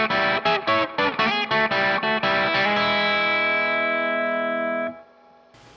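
Electric guitar picks a quick lick in sixths, a run of clipped double-stops ending on a long ringing chord that sustains and fades, played alone and close.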